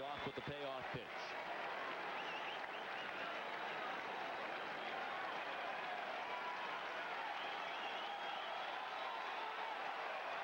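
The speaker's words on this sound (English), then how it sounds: "Crowd trying to help Derek out of this inning." Fenway Park crowd during a Dodgers–Red Sox baseball game cheers and claps steadily, a dense distant roar that carries on for several seconds after a short bit of announcer talk.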